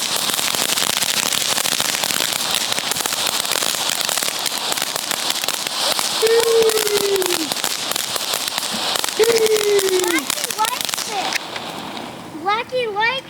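Fireworks bought by a family go off in a steady crackle and hiss of small bursts, with a few rising whistles later on and some duds, while people talk in the background.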